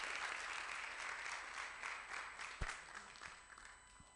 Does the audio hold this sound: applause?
yes